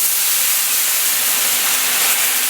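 Red wine poured into a very hot pan to deglaze it for a beef goulash, giving a loud, steady sizzling hiss of steam that holds evenly throughout with no talk.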